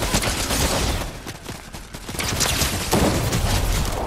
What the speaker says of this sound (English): There's somebody shooting back here.